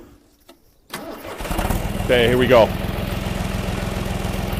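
A diesel tractor engine cranks and catches after a quiet moment, then settles into a steady, loud, rumbling idle. Someone speaks briefly over it.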